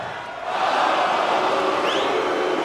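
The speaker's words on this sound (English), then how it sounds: "the crowd are even louder and more excitable than ever" A loud darts crowd cheering and roaring at the 2018 Champions League of Darts. The broad wash of voices swells sharply after a moment and stays high and excited.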